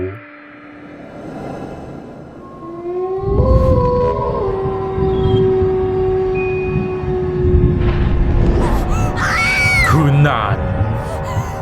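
A woman's full-voiced scream in a Thai horror audio drama, a woman turning into a krasue ghost, rising loud and wavering near the end over a dense bed of eerie drones, sound effects and background noise.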